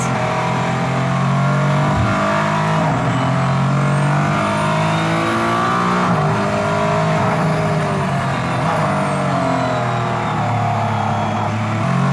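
A Mercedes-AMG ONE hypercar on a race track, its engine droning loud and close throughout as it accelerates while warming its tyres, with rising and falling revs and no speech.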